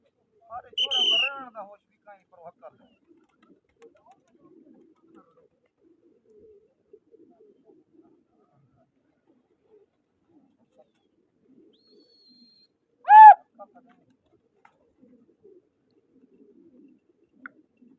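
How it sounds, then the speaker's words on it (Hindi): Pigeons during a pigeon-flying competition give a short cooing call at the start and another brief call midway, with long near-silent stretches of faint background between. "कबूतर थी माशाल्लाह उड़ रहे हैं"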